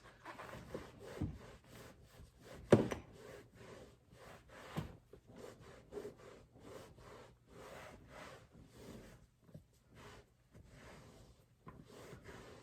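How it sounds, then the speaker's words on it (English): Close, soft scratchy scrubbing of a brush working over a leather car dashboard, in irregular strokes with brief pauses, quiet and without talk. "You can also use like other brushes and things like that to kind of scrub it"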